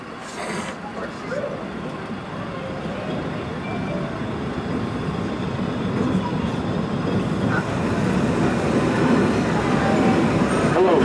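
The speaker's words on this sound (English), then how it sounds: "This is one of 3 passenger trains here on the Washington Park and Zoo Railway." The Zooliner passenger train on the Washington Park and Zoo Railway runs with a continuous rolling rumble and rattle, gradually growing louder, heard from on board.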